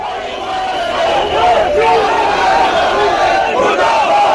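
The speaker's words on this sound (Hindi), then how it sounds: "रामबन में लोग सड़कों पर उतरे और बदले की मांग कर" Protesters crowd the streets in Ramban, a loud mass of voices chanting and shouting together in rising, overlapping cries.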